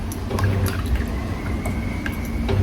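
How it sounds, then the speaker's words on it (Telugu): A paintbrush is swished and rinsed in a container of water while painting flowers, giving soft, close liquid sloshing with small drips and taps over a few seconds, no voices. "మళ్ళీ బ్రష్ కడిగేసుకొని"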